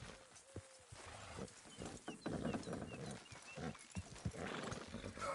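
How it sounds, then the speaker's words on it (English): Working horses pulling a load, with soft hoof clops, shuffling and straining thuds close by under light outdoor noise and a faint whinny, recorded quietly. "Horses will pull it clean down."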